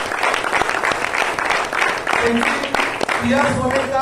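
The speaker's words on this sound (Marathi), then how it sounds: "सुनील सरांसाठी एकदा जोरदार टाळ्या व्हायला पाहिजे" Audience clapping at a company founder's motivational event, brisk applause mixed with voices and a few shouts over about four seconds.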